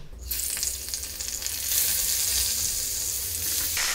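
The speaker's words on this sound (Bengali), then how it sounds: "তেল গরম হতে শুরু করে দিয়েছে। মাছগুলো ভাজার জন্য দিয়ে দিচ্ছি।" Climbing perch frying in hot mustard oil, a bright close sizzle that swells as the fish hit the pan and then holds as a loud, steady crackle, with no voices.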